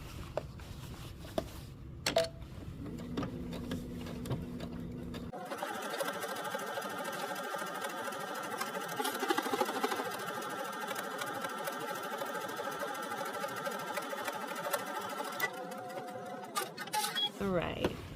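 A sewing machine runs steadily, stitching a seam with a strap tucked clear of it, while someone talks over the whirring motor.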